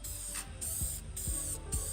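Small spray nozzles hiss in three short repeated bursts while coating a firearm during hydrodipping, each spurt separated by a brief mechanical click, close and fairly loud with no talking.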